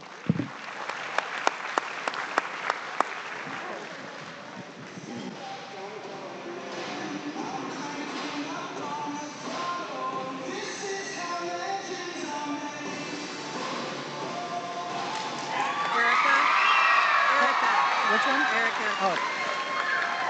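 A large crowd at the Nebraska State Fair FFA final drive claps and cheers for the champions, sustained applause swelling louder toward the end, with an announcer's voice over it.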